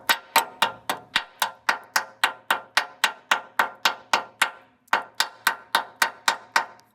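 Undercoat is worked off a 1974 Ford F250 with a scraper and pick, making a fast, steady run of about twenty sharp, close taps with one brief pause midway, and no voices.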